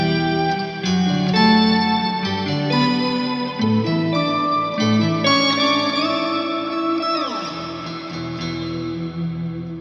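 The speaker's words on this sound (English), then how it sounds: "So that's the sound of the octaver." Electric guitar through an octaver pedal with reverb, chords and single notes doubled by octave tones, loud and upfront with a wash of reverb trails and a pitch-bending swell near the end, no talking.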